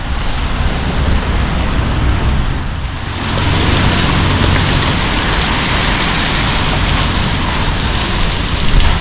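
Rain pours on a night street in Batumi, a dense continuous hiss that swells a little after the first few seconds and stays steady, with no talking.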